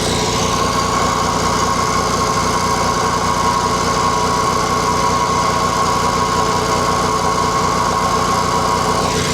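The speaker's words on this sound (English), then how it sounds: "Say it's a 1956 JAP engine, JAP 55." A small 1956 JAP 55 vintage stationary engine runs loudly and steadily up close, with a fast, even putter and a constant mechanical whine.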